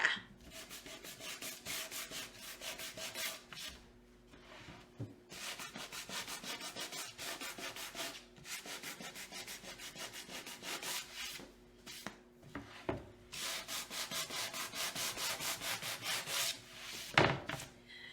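Sandpaper rubs back and forth over a stenciled, painted wooden Halloween porch sign in quick, rhythmic bursts of scratchy friction, broken by short pauses and a soft knock near the end.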